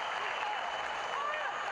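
Football crowd cheering its home side at a CD FAS vs Deportivo Arabe Unido match, a broad, steady wash of distant stadium noise sitting under a commentator's voice.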